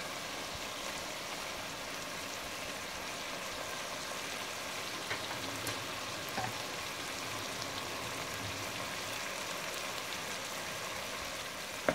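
Minced garlic frying in a pan while chicken with chickpeas and spinach is being cooked, a steady soft sizzle and crackle like light rain, even and continuous with a few faint pops and no talk.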